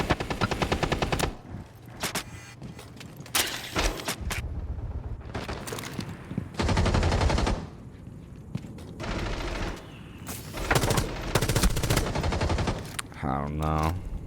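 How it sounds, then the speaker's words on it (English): Gunfire in the video game Rainbow Six Siege: repeated short bursts of automatic fire, close and loud, broken by brief pauses and ending with a few scattered shots. "He's only shooting a few bullets there."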